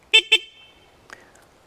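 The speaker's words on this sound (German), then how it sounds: "Dann haben wir noch eine Hupe. Vorsicht, die ist sehr laut." Horn of a Forca Evoking IV electric scooter, a 2 kW road-legal e-scooter, gives two short, loud, shrill beeps in quick succession, followed by a brief faint clunk and quiet.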